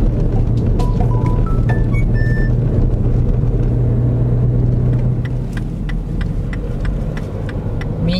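Steady road rumble of a car driving toward Asagiri Kogen roadside station near Fumotoppara campsite by Mount Fuji, continuous and loud engine-and-tyre drone with faint brief high beeps scattered through.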